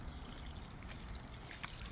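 Water poured onto garden plants during watering, a steady trickling and splashing stream at close range, continuous and fairly even throughout with no voices.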